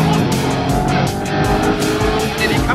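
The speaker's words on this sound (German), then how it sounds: "Dieses Video enthält schreiende Menschen und schnelle," A Mercedes-AMG GT R with a turbo upgrade drives hard and fast, its engine roaring loudly up close with surging acceleration and possible tire noise throughout.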